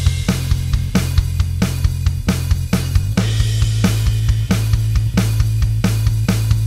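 A stock drum-kit pattern plays a steady, evenly spaced beat of sharp hits over a sustained low bass tone, loud and close, with no voices.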